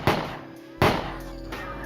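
Two sharp gunshot-like bangs around 10 p.m., outside a party, spaced under a second apart, each a sudden loud crack with a short decaying tail, followed by quieter rumbling.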